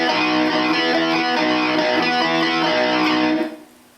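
Electric guitar plays a riff, a bright, jangly repeated pattern ringing loud and steady for about three and a half seconds before fading out.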